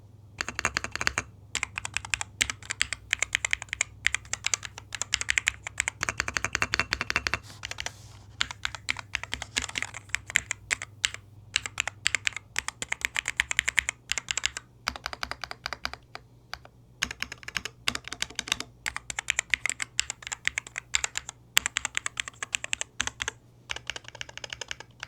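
Typing on an AULA AG60 Pro HE 60% keyboard, with dense, rapid, close key clacks that run in bursts with brief pauses, under a low steady hum and without talk.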